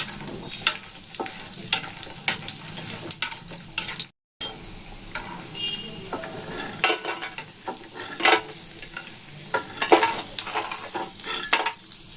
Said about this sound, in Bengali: কতগুলো বড়িকে ভেজে নেব।